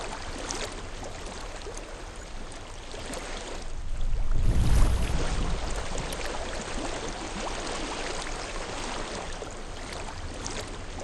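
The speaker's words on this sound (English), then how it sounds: "I hear water." Flowing stream water in the video game Hellblade: Senua's Sacrifice, a steady rushing wash that swells louder for a moment midway before settling back to an even, continuous flow.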